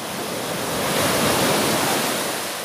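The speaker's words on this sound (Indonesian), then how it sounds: "ombaknya gede banget, sumpah asli" Big, tall ocean waves crash onto a beach, a continuous loud roar of surf that swells slightly in the middle, with no voices.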